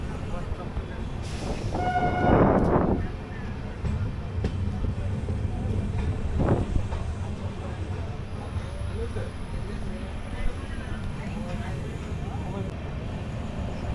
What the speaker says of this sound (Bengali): কলকাতার সাইরাং এক্সপ্রেস আজিমগঞ্জ স্টেশনে চলে আসলো